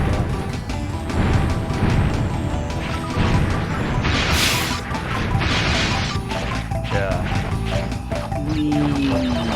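Huge icicles shatter with a loud, glass-like crash in the video game Crash Bandicoot 2. Heavy smashing impacts sit over a dense, busy game soundscape, with a bright burst near the middle and a sliding tone near the end.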